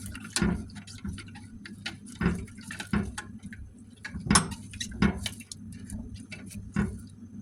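Rice porridge ingredients being stirred in a pot, with a spoon giving irregular clinking taps against the side amid soft wet sloshing, close and fairly quiet.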